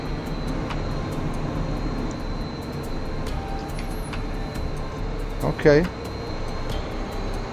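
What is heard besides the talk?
SU-27 jet engine at idle in a flight video game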